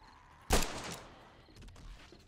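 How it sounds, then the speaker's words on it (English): A single loud gunshot burst in the video game 7 Days to Die, sharp crack followed by a short decaying tail, then faint scattered clicks and shuffling afterward, no voices. "we need to actually stop shooting with this one"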